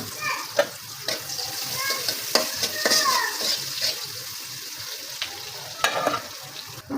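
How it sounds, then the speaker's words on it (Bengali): Onions and chopped garlic fry in hot oil in a home kitchen with a steady, close sizzle. Stirring scrapes and clinks break through it, and a voice talks faintly in the background. "আমার তেল গরম হয়ে গেছে, আমি এখন পেঁয়াজ দিয়ে দিলাম"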